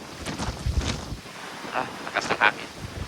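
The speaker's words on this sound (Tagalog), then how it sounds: "Lakas ng hangin." Strong gusting wind buffets the microphone on an open cruise ship deck far out at sea, with bursts of roaring rumble and faint background chatter.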